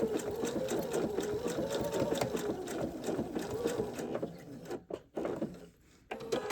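A sewing machine quilts fusible appliqué through backing and batting with a steady mid-pitched motor hum and rapid needle rhythm, running continuously and then briefly pausing and restarting near the end.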